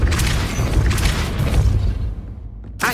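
A Depulso spell impact in Hogwarts Legacy: a loud, close, booming blast with a rumbling low end that sustains for about two seconds, then fades away, ending in a brief sharp hiss.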